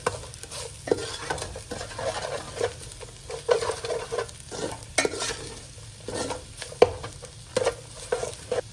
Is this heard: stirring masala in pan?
yes